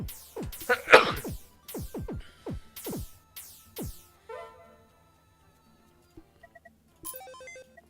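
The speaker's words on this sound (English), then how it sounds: "Gotta sneeze." Person sneezes during a live Pokemon tower defense game stream, a quick sharp burst amid chirpy game sound effects and descending electronic tones, followed by sparse beeps and a short melodic jingle.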